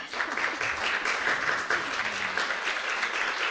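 An audience at closing remarks gives steady, full applause honoring former department heads, a dense sustained wash of clapping filling the room without speech.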